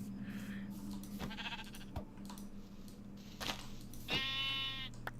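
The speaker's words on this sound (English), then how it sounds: "Or we'll just kill the sheep." A Minecraft sheep gives a couple of bleats, one short and faint early on and a clearer, louder bleat near the end, over a quiet game background with soft clicks.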